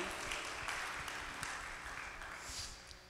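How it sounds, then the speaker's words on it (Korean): Church congregation applauding during a Korean Sunday worship service, dense continuous clapping from many hands filling the room at steady loudness. "우리 선한 목자 되신 주님께 우리 영광의 박수 올려드리겠습니다"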